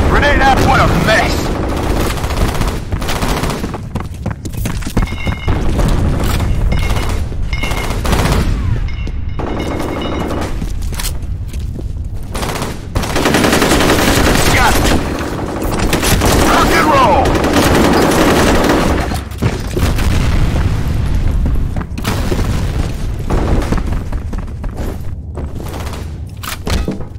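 Grenade explosions and rapid automatic gunfire in the combat shooter game F.E.A.R., loud, dense and almost continuous, with bursts and booms overlapping throughout.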